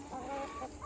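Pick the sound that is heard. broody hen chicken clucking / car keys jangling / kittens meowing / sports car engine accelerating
broody hen chicken clucking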